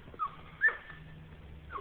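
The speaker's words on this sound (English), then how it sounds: "My doggies, they howl" Dogs at home greeting someone who has just arrived, letting out high, thin whines and short howling cries. The calls are faint and come in brief bursts from a little distance, with quiet in between.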